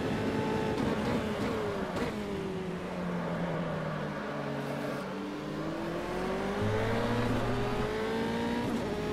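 A Formula 3 race car engine in the AMS racing sim at Suzuka screams loudly and steadily, its revs climbing and dropping through gear changes and corners without pause.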